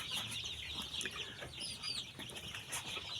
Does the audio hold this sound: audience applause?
no